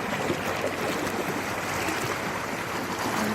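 Sea waves rush against a rocky shore in a steady, loud, broadband wash of surf with no breaks.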